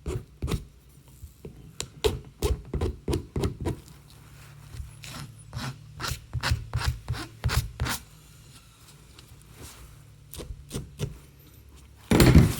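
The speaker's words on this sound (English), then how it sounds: "Drag a file across it a couple times." A metal file dragged across the cut end of a hammock suspension piece makes a series of short, close rasping strokes in quick bursts, with one louder scrape at the end.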